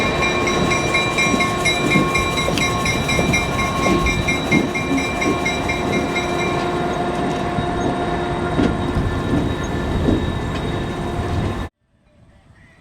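A diesel locomotive hauls a caboose train past a grade crossing at the Illinois Railway Museum: steady loud rumble with clickety-clack wheel beats and faint squeals, close by, cutting off abruptly near the end.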